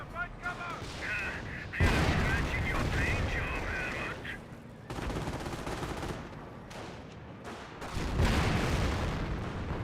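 Heavy tank-gun fire from an M26 Pershing in the World War II strategy game Company of Heroes, booming reports and explosions amid a dense battle din, with someone talking over much of it.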